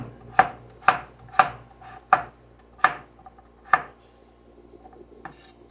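Six crisp knife chops through potatoes on a cutting board, close and evenly spaced, then a softer final tap, with no voices.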